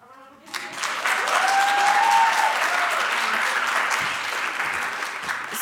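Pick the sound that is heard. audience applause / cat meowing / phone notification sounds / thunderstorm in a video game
audience applause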